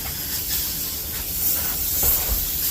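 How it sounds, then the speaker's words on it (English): A steady, loud hiss of closed cell spray foam insulation spraying from a nozzle, continuous with slight surges, close by and alone. "Closed cell spray foam insulation."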